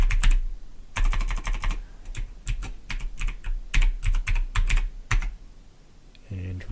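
Typing on a computer keyboard to enter a root user password, in bursts of quick, close key clicks separated by short pauses, ending with a brief tonal sound.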